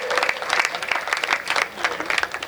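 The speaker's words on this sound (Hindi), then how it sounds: "एक बार हाथ खोल के ताली बजाइए" Audience at a Hindi kavi sammelan (poetry recital) bursts into sustained, dense applause, many hands clapping steadily for the whole stretch with a slight crowd murmur, fairly loud and close.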